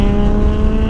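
A Voge SR1 125cc scooter accelerates uphill, its engine giving a steady, loud, close drone with a strong low hum throughout.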